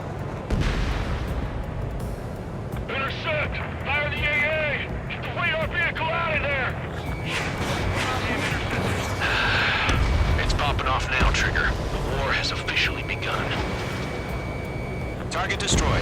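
Missile launch and strike on an anti-air radar vehicle in the jet combat game Ace Combat 7, booming blasts and roaring engine noise under steady radio chatter and voices.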